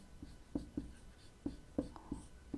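A pen works through a Class 12 maths differential equations solution, making close, scratchy strokes and taps in an uneven rhythm, with no talking.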